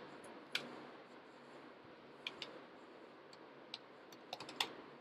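Computer keyboard keys clack in short, irregular bursts of taps while a command is typed, close and fairly quiet over a faint steady background hiss.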